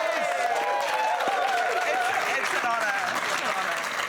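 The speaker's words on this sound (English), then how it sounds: "Give them a round of applause" Studio audience applause on a comedy panel show, continuous clapping with some crowd noise and cheering throughout, while a voice carries over it.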